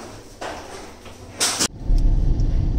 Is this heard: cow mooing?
no